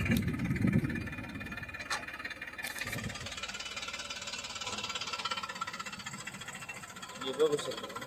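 A New Holland tractor pulling a Shaktiman rotavator runs with a steady mid-pitched engine drone and mechanical rattle, continuous throughout, under someone talking.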